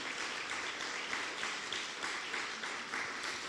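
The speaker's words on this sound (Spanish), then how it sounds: "Dale fuerte el aplauso en alabanza y adoración." A Spanish-speaking church congregation at a 2022 baptism service applauds in praise, a dense, steady wash of many hands clapping together that holds evenly throughout with no voices standing out.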